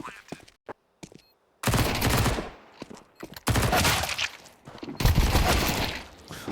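Gunfire in a professional Counter-Strike match, heard as several loud bursts of rapid shots separated by short gaps, with a few brief sharp clicks beforehand and a voice talking faintly under parts of it.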